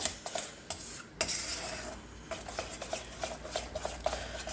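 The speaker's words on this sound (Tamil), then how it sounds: "இப்போ நல்லா மிக்ஸ் பண்ணுறாங்க, எந்த கட்டியும் இல்லாமல் நல்லபடியாக பண்ணிகிட்ருக்காங்க" Urad dal and milk being stirred in a pot until smooth, with repeated soft scraping and clinking of a utensil against the vessel in a steady, close rhythm.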